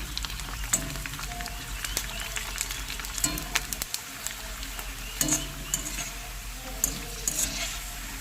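Puris for panipuri fry in hot oil while being stirred, a continuous sizzle with occasional clinks and scrapes of the stirring utensil against the pan.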